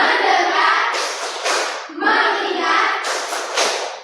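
A group claps hands together in a rhythmic clapping game during an ice-breaking session, the claps landing in quick repeated bursts mixed with voices.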